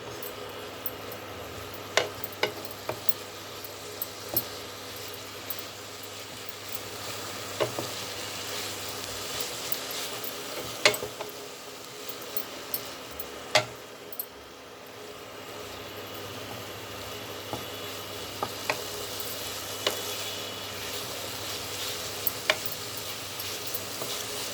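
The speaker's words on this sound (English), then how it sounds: "Give it a good stir." Leftover roti noodles sizzle steadily in a pan while a spoon stirs them, with sharp periodic scraping clicks over the continuous frying, close and without talk.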